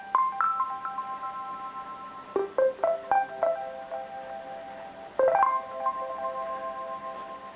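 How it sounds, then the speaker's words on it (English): The Twinkle Echo tone on a vintage Casio SA-1 keyboard, with bright plucked bell-like notes in small clusters, each followed by fading echo repeats, heard clearly on its own. "Twinkle Echo, which sounds like this."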